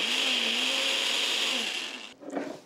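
A blender whirs steadily as it purees canned beans with a little water, a loud continuous motor whine that cuts off near the end, followed by a brief clatter.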